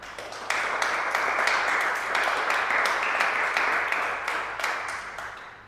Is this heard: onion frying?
no